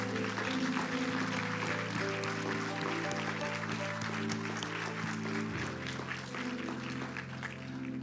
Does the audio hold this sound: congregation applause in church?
yes